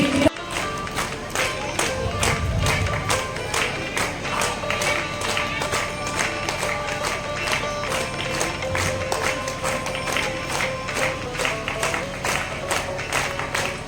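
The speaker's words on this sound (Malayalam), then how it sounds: "ഒരു നിറഞ്ഞ കയ്യടി നമുക്ക് മാണിക്കമ്മയ്ക്ക് വേണ്ടി നൽകാം" An audience at a family gathering gives Manikkamma sustained applause, dense rhythmic clapping with cheers mixed in at the start, filling the room evenly throughout.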